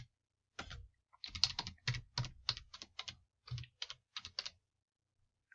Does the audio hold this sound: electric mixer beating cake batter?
no